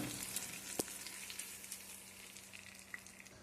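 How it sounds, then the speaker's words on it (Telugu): Cumin, mustard seeds and curry leaves crackle and sizzle in hot oil as a tempering for tomato pepper rasam, a steady close hiss with scattered pops and one sharp crack. "తాలింపు వేసేసుకున్నాను"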